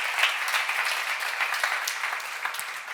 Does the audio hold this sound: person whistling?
no